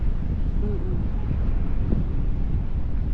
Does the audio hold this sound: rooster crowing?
no